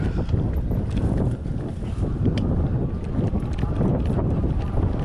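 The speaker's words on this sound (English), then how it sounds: "there is quite a bit of wind coming across this field" Wind blowing steadily across an open field near the water's edge, a constant broadband rush buffeting the microphone with gusty rises and dips throughout.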